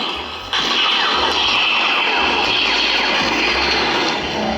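An Electrum Sabercrafts Remnant lightsaber with a Proffie v3.9 board ignites, a sudden loud surge after a short pause that settles into a sustained, dense roaring hum, up close and alone.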